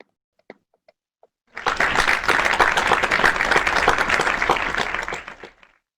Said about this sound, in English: welcome contestant number 8, Eyad Hudaib, with a huge round of applause.